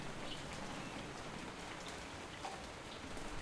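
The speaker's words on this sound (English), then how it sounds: "raining, and birds are singing" Steady rain in a video game (TLDS2), a dense even patter that holds constant throughout at a soft level, with no distinct birdsong standing out.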